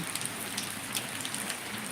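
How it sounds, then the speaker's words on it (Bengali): Rain falls steadily during the rainy season, a dense, even patter of drops hitting a surface at moderate volume with no voices. "বর্ষাকাল বৃষ্টি হচ্ছে আমরা দেখতে পাচ্ছি"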